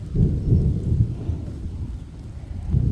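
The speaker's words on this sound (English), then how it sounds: "Where there's thunder, there's lightning, and it's moving in." Low, heavy rumbling of thunder rolling on without pause, with a steady wash of rain behind it and no voices.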